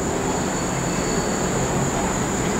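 An Amtrak train rushes past on the Northeast Corridor at Newark, Delaware, a loud, continuous roar of wheels and rails with a steady high whine.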